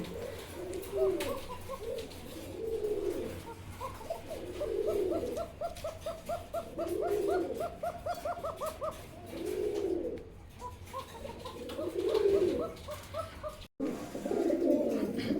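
Pigeons coo repeatedly in rolling, throaty phrases at a steady rhythm, close and clear against a faint background hum, at a pigeon market.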